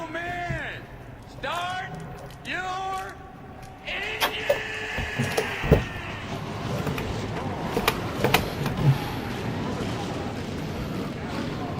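Stock car engines fire up in a racing video game at Daytona, a Ford and a Pontiac on the front row, with cranking whines then loud roaring revs and sharp pops, while a commentator's voice is heard.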